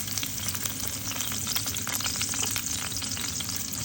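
Dried red chillies and chopped ginger fry in hot oil in a pan for a Bangladeshi taki fish bhorta, giving a steady, dense crackling sizzle with occasional stirring scrapes throughout, close and loud, with no talking.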